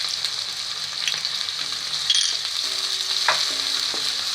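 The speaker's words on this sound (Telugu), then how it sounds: "ఇవి కొంచెం ఫ్రై అవ్వాలండి" Onions, green chillies and curry leaves fry in a pan with a bright, steady sizzle. Brief scrapes and pops break in now and then, and there is no talk.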